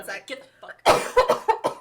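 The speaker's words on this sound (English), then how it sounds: "Mostly a cough." A person lets out a short burst of coughing in the middle of casual conversation, with talking before and after the harsh, broadband cough.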